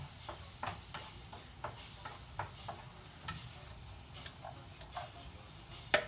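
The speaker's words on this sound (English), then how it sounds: "You want to be frying these vegetables." A steady sizzle of vegetables frying on high heat in a hot pan, with occasional light taps and stirring clicks over the crackle, close by and without speech.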